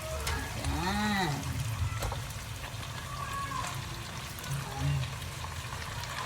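Cabbage sautéing in a small pan, a steady sizzle and crackle heard throughout, with a moo-like tonal sound near the start and other background noises.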